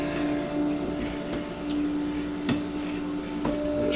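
Chicken wings seasoned with onion, garlic and paprika sizzle steadily in a pan, with a few sharp clanks and scrapes as they are turned, the frying hiss continuous and close.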